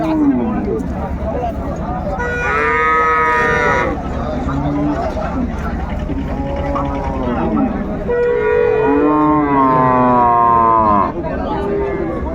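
Dairy cows and calves moo in long drawn-out calls, two prominent ones, amid the constant chatter of a crowd of people talking nearby at a cattle market.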